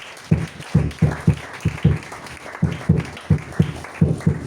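A church congregation claps together in a steady rhythm, about a dozen even, moderately loud claps in a row, with no clear talking.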